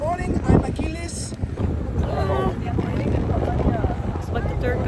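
Strong wind buffets a boat on rough, choppy sea near Capri, a steady close rushing roar with low rumble throughout, while people talk over it.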